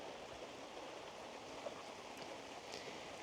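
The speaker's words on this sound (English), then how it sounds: "it's starting to rain, so hopefully you can still hear me with the rain" Rain starts falling outdoors as a steady, faint hiss of drops, spread evenly with no speech over it.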